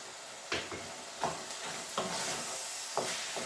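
A spoon stirs plain flour into a lamb and rosemary pasty filling seasoned with soy sauce and black pepper, making faint scraping strokes in an uneven rhythm, about five distinct swipes, with no talking.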